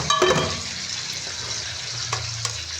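Bangus (milkfish) frying in a pan at home, a steady oily sizzle with a few clinks and stirring scrapes near the start, fairly close and continuous.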